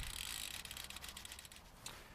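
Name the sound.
bicycle freewheel clicking while pedaling backwards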